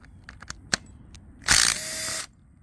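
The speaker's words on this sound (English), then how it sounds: "you're going to remove these two 10mm bolts in the timing cover" A ratchet turning 10mm bolts out of the timing cover on a 5.0L Coyote swap engine, heard as a few close, sharp clicks followed by a steady buzzing ratchet run of about a second.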